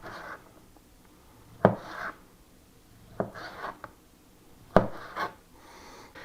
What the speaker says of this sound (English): we're going to slice the pepperoni